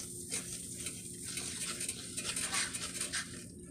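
Butter melting in a pan over medium heat on a stove, a soft continuous sizzle and crackle, close and fairly quiet, with no one talking.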